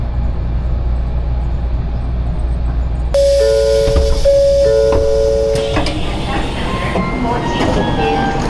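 A Shinkansen bullet train on the Kyoto to Nagoya line sits at a station platform, a steady low rumble joined midway by a sustained electronic chime or tone sequence and brighter mechanical hiss, close and fairly loud.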